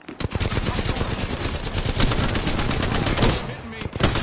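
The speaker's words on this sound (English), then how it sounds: "I am taking fire, friends." Rapid automatic gunfire in Apex Legends, dense close bursts rattling continuously for several seconds with a few sharper shots, loud and mostly alone.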